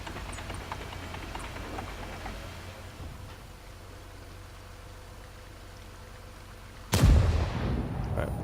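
A single loud, deep tank cannon blast from a tank video game erupts after several seconds of quiet engine rumble and ambient crackle, followed by a rolling echoing tail.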